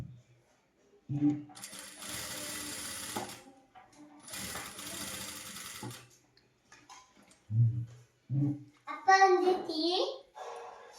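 A sewing machine stitches the front neck of a three-year-old's blouse in two steady runs of a few seconds each, followed by short taps and a voice near the end.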